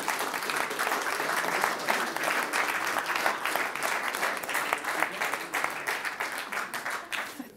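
Steady, moderately distant clapping from an audience at a sustainability event, cheering the announced winner of an offshore wind venture award, sustained and even throughout.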